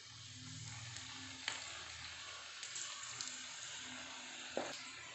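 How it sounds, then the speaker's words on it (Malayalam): Onion pakoda batter of gram flour goes into hot oil, giving a soft, steady sizzle with a few faint clicks and light knocks. "എണ്ണ ചൂടാക്കാനായിട്ട് വെച്ചിട്ടുണ്ട്. അതിലേക്ക് നമ്മൾ മിക്സാക്കി വെച്ചിട്ടുള്ള ഈ പക്കവാളയുടെ മിക്സ് ചേർത്ത് കൊടുക്കാം"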